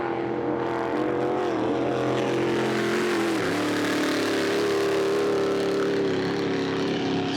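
Toyota 2J straight six turbo race boat roaring at speed at a drag boat event, a loud sustained engine drone whose pitch dips midway and then holds steady, heard close and without voices.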